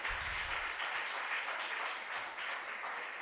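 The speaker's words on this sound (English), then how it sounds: "Can we give a round of applause?" An audience at a junior science and maths quiz gives a sustained round of applause for the contestants, steady clapping from many hands heard at a moderate distance.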